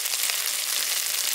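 Spice paste sizzles in a hot pan for a katla fish curry with coconut, giving a steady, dense hiss that runs unbroken from start to finish.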